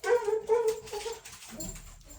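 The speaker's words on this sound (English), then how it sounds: "My dogs are barking at the washing machine" Several dogs bark and whine at a washing machine during its spin cycle, with sharp yelping bursts early on easing into softer whimpers, fairly close and loud, with no machine noise clearly standing out.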